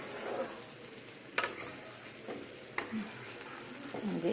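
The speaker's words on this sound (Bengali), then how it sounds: "এই ঢিমে আছে সুন্দর সেদ্ধ হচ্ছে" Amla (Indian gooseberry) simmering on low heat, a faint steady bubbling hiss with a couple of soft knocks, a voice speaking quietly over it.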